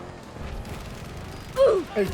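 Gunfire from the first-person shooter Battlefield 2042 on a new season map, a couple of short loud bursts late in the clip over a low rumbling game background.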